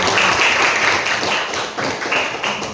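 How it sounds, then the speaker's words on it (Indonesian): Applause from an audience at a school outreach event run by the student council, a dense, steady wash of many hands clapping close by for nearly three seconds, with no clear talk over it. "tepuk tangan dulu"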